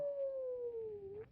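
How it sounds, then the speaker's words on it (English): Electric guitar whammy bar dive with distortion: a single sustained tone slides slowly downward in pitch, fairly quiet, ending with a short stuttered burst from a kill switch as it is cut off. "while I pull down the bar, I make the stutter effect with the kill switch."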